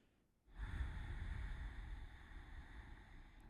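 One deep, close breath during a yoga stretch for the trapezius muscles, a long airy rush of air that begins abruptly and holds steady to the end.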